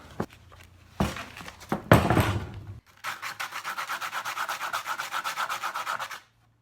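A craft blade slicing along an edge while building an electric mountain board, heard first as a few short scrapes, then a rapid, even series of close, rhythmic cutting strokes that stops abruptly.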